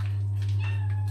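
A single cat meows close by, a short rising-and-falling cry over a steady low electrical hum.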